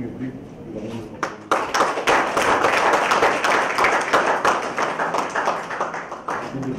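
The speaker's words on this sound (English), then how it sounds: "please join me in giving a big round of applause." An audience at a regional employer awards ceremony on a campus claps to welcome a guest speaker, starting with a few scattered claps that swell into a lively round of applause with voices underneath.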